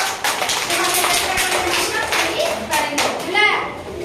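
A group of children clap their hands together in a classroom activity, a scattered run of sharp claps while a child and an adult speak over them.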